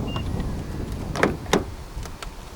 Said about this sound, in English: To lock the trunk, press the button on any of the front door handles.